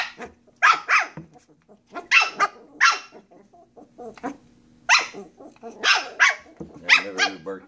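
A dog barks in repeated sharp bursts at close range, playful and mouthy, with brief growly sounds between the barks.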